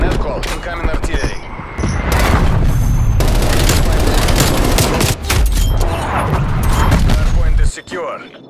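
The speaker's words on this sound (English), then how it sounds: "Artillery targeting detected. Net call, incoming artillery." Incoming artillery strike in Call of Duty Black Ops Cold War multiplayer, dense overlapping booms and rapid gunfire crackling loudly for several seconds before cutting off abruptly, with in-game voice announcements over the barrage.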